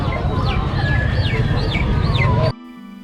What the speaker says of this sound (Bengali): দেখুন সেরকম কয়েক জাতের মুরগি এই মুরগির নাম কি পুলিশ ক্যাপ